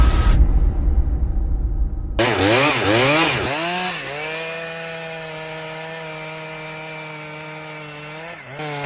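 A loud chainsaw roars through wood, starting with a harsh, noisy burst of cutting, then revving up and down before settling into a steady, sustained engine drone close to the listener.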